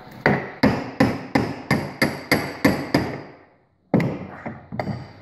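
Hammer blows on metal during a toy car build, a steady run of about eight sharp, loud strikes, then a short pause and a few more hits.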